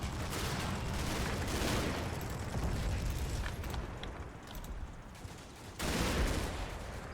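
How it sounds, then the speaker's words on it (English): Small arms fire in the WWII video game Combat Mission, aimed at a 6-pounder anti-tank gun, a dense, loud, continuous crackle of rifle and machine-gun shots with rumbling bursts and no talking. "we got lots of small arms fire going out on that 6-pounder there"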